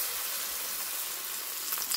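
A battered piece of bread frying in hot oil gives a steady, fine crackling sizzle, close by and alone.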